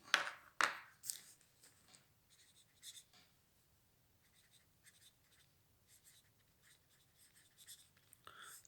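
Chalk or marker writing on a board during a maths class on intervals, faint scratchy strokes in short bursts, a few sharper taps near the start, in a quiet room.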